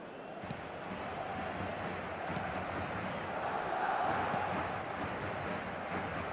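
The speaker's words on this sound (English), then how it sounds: "a lot of applause for the thought" A FIFA video game stadium crowd gives a broad, steady roar of applause that swells slightly midway, with no talk over it.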